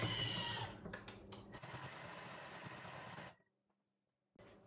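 A Thermomix whirs steadily as it mixes cake batter with plain yogurt, loud and near for about three seconds, then stops abruptly with a brief clatter at the end.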